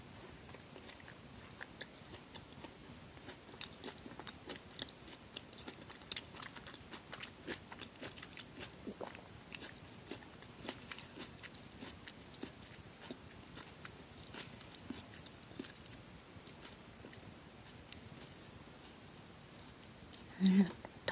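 Soft, close biting and chewing of cheesy pizza toast, steady moist munching throughout with a brief louder rustle near the end, recorded quietly at close range.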